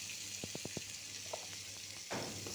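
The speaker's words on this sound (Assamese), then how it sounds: "এইখিনি এতিয়া ভালদৰে লৰাই দিছোঁ।" A spoon stirs Assamese sour fish curry with salt and turmeric in a pan, giving a quick run of four light taps, a soft bubbling sizzle underneath and a brief scraping swish near the end.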